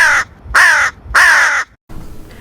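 A hooded crow calls three loud, harsh caws in quick succession, each a rasping burst about half a second long, close and clear against quiet outdoor background.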